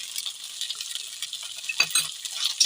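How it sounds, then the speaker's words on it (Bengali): Turmeric, cumin powder and salt fry in oil in a pan for a vegetarian papad curry, giving a steady close sizzle with scraping stirs and a couple of sharp metallic taps near the end, no voices. "তেল ছাড়া অবধি ভালো করে মশলাটা কষিয়ে নিতে হবে।"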